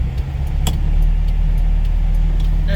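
A 1979 Ferrari 308 GT4 engine hums steadily while driving, a loud low drone inside the car with a few faint clicks and ticks above it, no talking.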